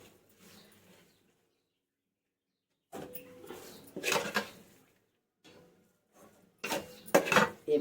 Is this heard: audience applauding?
no